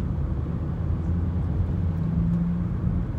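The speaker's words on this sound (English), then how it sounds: "This car is so noisy." A noisy car gives off a constant low rumble and road roar, loud and close, with no clear break for the whole stretch.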